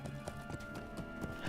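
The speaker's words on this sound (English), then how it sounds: "I've still not filtered off the hoof clip-clops" Horse hooves clip-clopping in LOTRO, a quick run of bright, evenly spaced hoof strikes, fairly quiet and close, with no talking.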